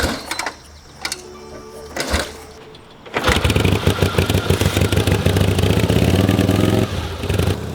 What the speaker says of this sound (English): I managed to get the bike fired up,